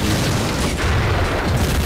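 Deep, sustained booming roar of a bomb blast in a competitive 5v5 shooter match, a dense low rumble filling the whole moment without any voices.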